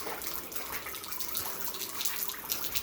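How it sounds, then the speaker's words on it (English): High-pressure hose water flushing the top end of a Mercury 135hp outboard motor, a steady broad hiss and spray throughout, fairly near and continuous with no voices. "does a bloody good job flushing the top end of the motor there."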